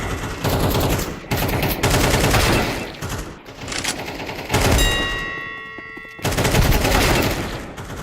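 Rapid bursts of video game gunfire during a team practice match, loud and dense with repeated volleys, brief pauses and a ringing metallic tone in the middle, with no talking.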